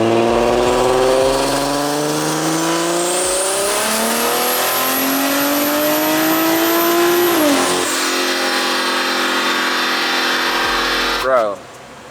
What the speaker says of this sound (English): we ran the car on 4th gear this time